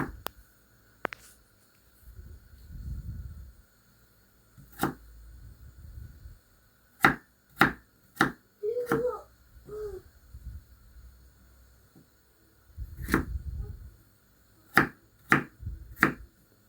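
Potato diced into cubes with a knife: several sharp, separate knife chops onto a board, some in quick runs of two or three, close and clear, with softer handling noises between and no speech.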